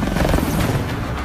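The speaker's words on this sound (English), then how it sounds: "Get that helicopter up in the air." A helicopter runs on a Transformers: The Last Knight film set during stunt production, giving a loud, steady, close rotor-and-engine rumble with no pauses.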